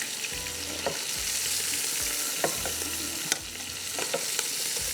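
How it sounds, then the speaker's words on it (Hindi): Hot oil poured over a barbecue pizza topping sizzles loudly and steadily, with crackling pops and a few scraping stirs underneath, close by and continuous. "गरम गरम ऑयल ऊपर से डालेंगे"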